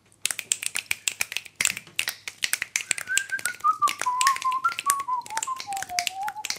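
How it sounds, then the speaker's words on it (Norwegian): Rapid rhythmic finger snapping by several people performing a song, close and crisp, with a melodic whistle joining partway through over the steady snaps. "Vi skal knipse den for deg."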